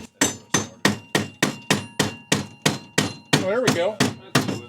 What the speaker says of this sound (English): Well, a hammer came out, so something good's going to happen.